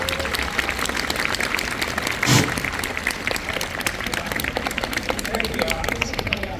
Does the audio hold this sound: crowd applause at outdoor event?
yes